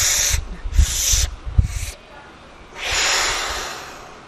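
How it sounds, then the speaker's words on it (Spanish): Forceful Wim Hof method breathing: three sharp, loud nasal inhalation bursts in quick succession, followed after a pause by one long, steady exhalation, close to the microphone. "la inhalación puede ser en tres partes"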